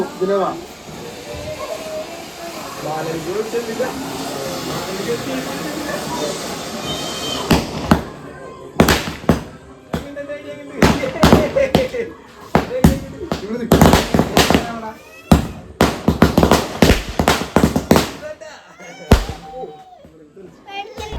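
Firecrackers for the Vishu festival in Kerala go off in loud, sharp bursts, first in scattered single cracks and then in rapid clusters, with people and children talking between and under the explosions.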